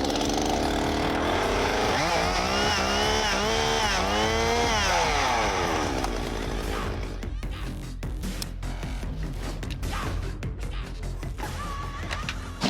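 A portable fire pump engine runs at full throttle during a daily readiness check, a loud, steady high-revving drone that shifts pitch midway and then holds a rough, buzzing roar with no talking.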